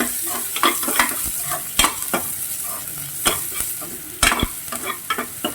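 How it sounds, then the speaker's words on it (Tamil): Ginger and garlic sizzle in a pan with a steady frying hiss. A utensil stirs close by with sharp, irregular scrapes and clacks against the pan, and no one speaks. "இது கூட வந்து நான் சேர்த்துக்கிறது வந்து இஞ்சி பூண்டு"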